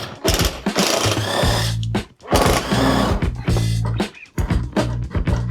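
A power driver grinds out rusted screws from a door panel on a 12-meter bus, giving loud, close ratcheting and whirring bursts with two short pauses between runs.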